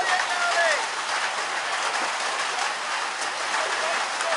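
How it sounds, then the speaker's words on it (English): Heavy rain pours steadily over an outdoor cricket ground during a club match, Diamond Creek v Riverside in the Barclay Shield, as a constant dense hiss with a voice faintly beneath it. "It is getting even heavier now is the rain."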